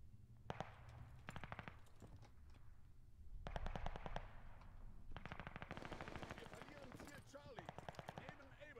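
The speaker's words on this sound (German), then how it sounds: "My little MG." Machine gun fire from a Call of Duty: Vanguard multiplayer match, rapid automatic bursts repeating in several strings with short gaps, loud and close over game noise and some talk.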